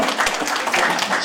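Audience applause at a 2015 public Q&A political event in Daegu with Ahn Cheol-soo, a dense, continuous burst of clapping filling the hall, loud and close.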